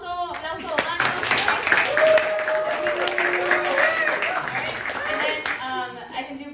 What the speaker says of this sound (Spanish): aplauso, aplauso, aplauso